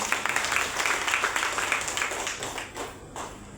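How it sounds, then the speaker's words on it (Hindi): An audience at a health awareness program claps steadily, a dense patter of many hands that slowly thins toward the end. "शानदार तालियां"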